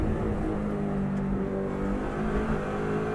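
Subaru Impreza on a racing circuit, its engine note dropping under braking while downshifting into third, a steady loud in-car drone with shifting tones.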